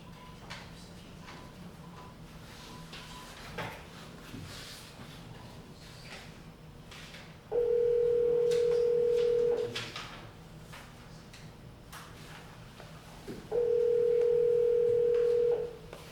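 Telephone line tones: two long, steady hums, each lasting about two seconds with a pause between, over faint room noise and soft clicks.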